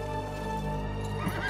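A horse neighs in the video game Darksiders 3, a single close, loud whinny with faint hoof clops, heard alone without talk.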